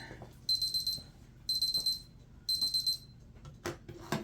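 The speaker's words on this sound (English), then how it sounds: "the alarm has sounded" A high electronic timer alarm beeps in three evenly spaced bursts of rapid pulses, each lasting about half a second, with faint background clatter between, in a kitchen while baking sourdough bread.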